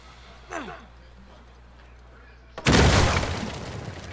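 A dynamite explosion in the Uncharted 4 action game, a sudden loud blast with a shattering burst and a long rumbling decay, following a faint whoosh and quiet ambience.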